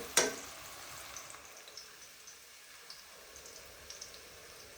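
Onions browning in a pan in a village kitchen give a soft, steady sizzle throughout, with one brief sharp clatter near the start.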